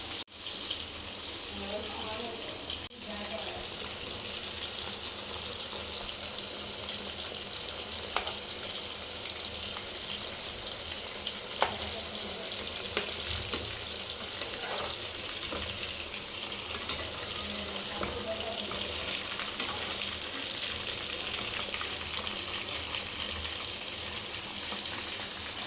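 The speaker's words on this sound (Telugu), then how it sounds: "చికెన్ మనం నూనెలో వేసిన వెంటనే కలిపెట్టకూడదు ఫ్రెండ్స్" Chicken 65 fries steadily in hot oil for Hyderabadi-style cooking, a continuous low sizzle and bubbling hiss with occasional faint clicks, while a voice talks quietly in the background now and then.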